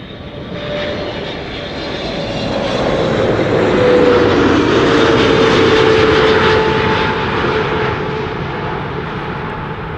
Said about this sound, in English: Same exact sound of the engines that you hear when an A300 or a freighter passes by.